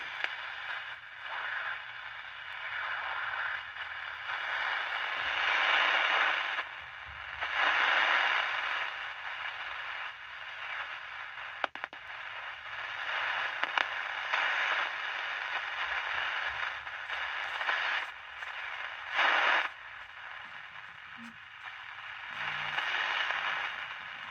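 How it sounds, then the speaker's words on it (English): A cheap transistor radio tuned to long wave hisses and crackles with broadband static and interference, with rustling swells and occasional scraping clicks, steady and fairly quiet with no voices. "I think it's just picking up interference"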